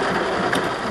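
Heavy rain pours down in a brief, dense, even hiss with no break.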